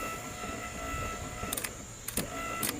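A repaired Dodge Ram windshield wiper motor runs steadily with a continuous mechanical hum, and a few short clicks and squeaky sweeps come through near the end.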